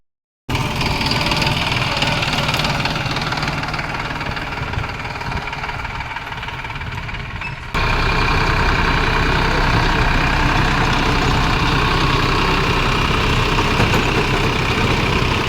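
A mini tractor engine idles steadily and loudly from start to finish, its rumble stepping up slightly partway through.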